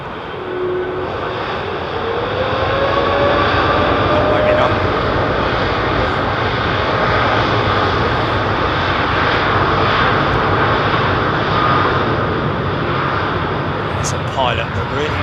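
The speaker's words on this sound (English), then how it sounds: "You'll hear them power up as this Kenya jet goes." Kenya Airways jet at London Heathrow powering up its engines for takeoff, a loud sustained roar with a rising whine that holds steady throughout, with a voice talking over it.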